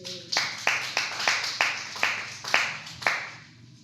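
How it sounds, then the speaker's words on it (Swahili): A church congregation claps in steady, evenly spaced rounds, about eight distinct beats of applause close by, with no talk over them. "makofi."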